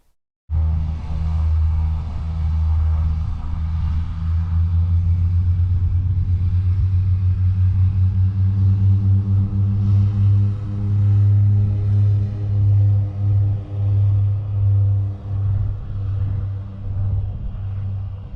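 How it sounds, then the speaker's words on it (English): A passenger plane takes off from the sand runway on Barra beach, bound for Glasgow. Its engines make a loud, steady, low rumbling drone that starts abruptly and holds throughout, with no voices. "A crowd of us, including the fire brigade, watched the plane set off back to Glasgow"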